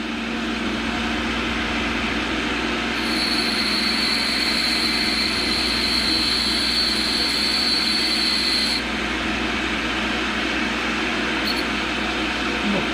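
An Axelson gearhead lathe runs steadily while machining a small-diameter metal part, giving a loud continuous mechanical drone, and a high-pitched whine joins in partway through the cut before dropping away.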